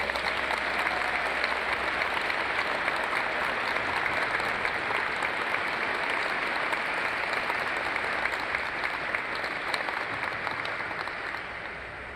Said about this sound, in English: Let's give another round of applause for these two leaders on stage and their families